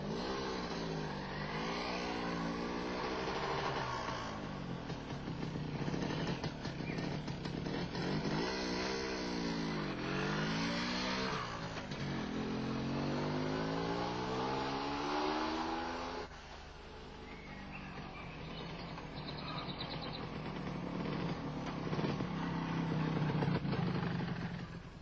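An MZ ETZ 251 motorcycle out on a test drive, its engine note rising and falling through repeated gear changes and accelerations, steady and fairly close for the whole stretch, with no talking.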